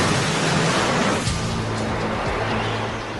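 The tidal bore known as the Silver Dragon surges upriver as a loud, continuous roar of rushing, churning water that fills the whole stretch with dense, noisy turbulence.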